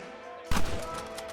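Gunfire in Red Dead Redemption: a sudden sharp shot after a quiet moment, followed by a rattling burst of further rounds that decays over the next second.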